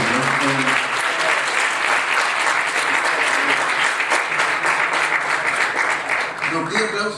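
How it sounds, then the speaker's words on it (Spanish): A seminar audience claps for a panel in loud, sustained applause that fills the room for several seconds, then thins near the end as a voice returns. "Primero un aplauso. Para todo el panel, ¿no?"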